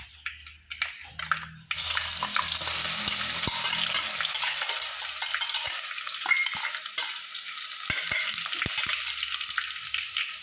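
A chili, ginger, garlic and onion paste for fish curry sizzles loudly in a hot pan while being stirred, a steady close frying hiss with scraping spoon clicks after a quieter start.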